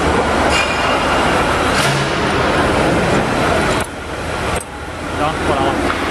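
A vehicle on a rebar-hauling work site pulls away with a loud, steady rumble, a faint metallic squeal and a brief dip in noise, while workers call out nearby.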